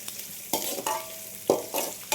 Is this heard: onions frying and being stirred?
yes